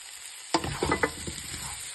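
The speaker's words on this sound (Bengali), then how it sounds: "আলু আর ফুলকপিটা প্রায় নিয়ে 5 মিনিট মতন ভাজা ভাজা হলো।" Potato and cauliflower pieces fry in a hot pan, a sudden sizzle bursting in after a quiet moment, followed by a few close scraping stirs over a continuing hiss.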